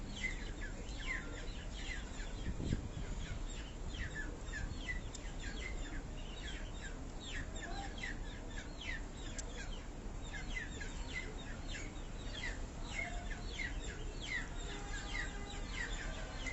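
Sialkoti pigeons on a rooftop coo and chirp softly in a continuous faint chorus, a distant, steady outdoor murmur of birds with no talk.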